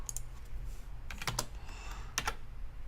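Typing on a computer keyboard while entering a number, a few quick, light key clicks in small bursts close by in a quiet room.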